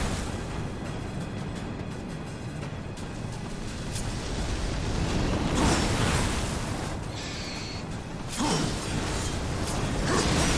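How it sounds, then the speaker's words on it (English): Dense game audio from Darksiders Warmastered Edition during a fight: a continuous loud mix of combat music, mechanical clanks and whooshing swipes, with bursts and impacts swelling around the middle and near the end. "I hear combat music."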